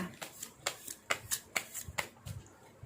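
Tarot cards being shuffled by hand: a quiet, close series of about eight crisp riffling flicks in a steady rhythm, with no talking during the shuffle.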